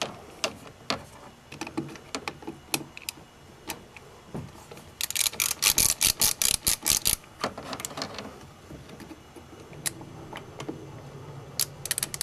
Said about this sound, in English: A standard socket seemed to be too thick. So anyway, let's loosen that up.